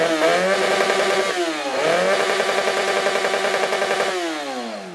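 A tuned motorcycle stripped of its plastic bodywork revs hard at the Reactor 2013 moto picnic in Netishyn, its engine climbing and dropping in three loud, close sweeps with no pause between them.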